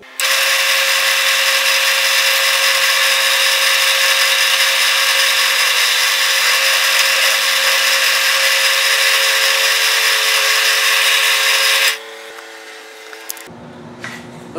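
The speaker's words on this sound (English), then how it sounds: "Gonna drill them." A power drill whines steadily and loudly for about twelve seconds while boring center holes in clamped wooden whirligig parts, then cuts off and a few faint knocks follow.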